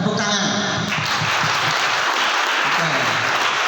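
Applause from an audience at an Indonesian motivational talk, a dense wash of clapping that fills the clip at steady loudness, with voices mixed in.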